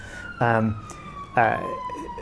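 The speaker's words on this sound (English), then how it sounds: "we've got a siren going off in the background right now" A siren wails outside near a main road, two rising-falling swells with a steady high tone running throughout, moderately loud in the background while the room is otherwise quiet.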